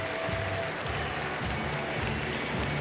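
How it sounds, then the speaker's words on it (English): Baseball fans of the Durham Bulls applaud in a stadium during a minor league game against Pawtucket, a steady, moderately distant wash of clapping with no voices standing out. "Nice applause by the Bulls fans."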